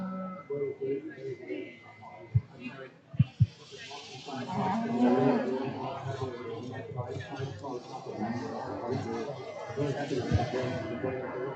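Hereford cattle lowing in a show ring, several moos rising over a steady murmur of crowd chatter and a few sharp knocks, moderately near and persistent.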